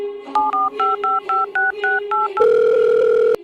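A telephone keypad dials a number as a quick run of about ten short beeping tones in a regular rhythm, followed by a long steady line tone, loud and close.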